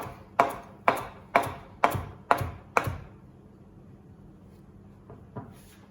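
Six evenly spaced knife chops thud on a cutting board as parsley is roughly chopped, close and distinct, followed by quieter occasional taps.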